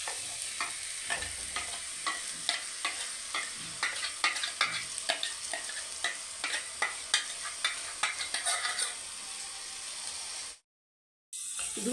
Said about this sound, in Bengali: পেস্টটার মধ্যে কাজু দেওয়া ছিল, তাই এখানে অনবরত নাড়িয়ে যেতে হবে